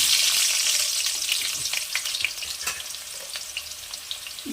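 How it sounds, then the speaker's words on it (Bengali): Diced potatoes fry in hot refined oil, giving a close, bright crackling sizzle with scattered pops that gradually eases over a few seconds. "তেল গরম হয়ে গেছে, এর মধ্যে দিয়ে দেবো কেটে রাখা আলু"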